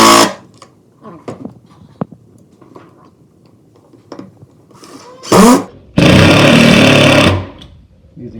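Power drill driving self-tapping screws while installing a lazy susan, two short bursts of whirring near the end, the second longer and louder, after quiet handling clatter and faint talk.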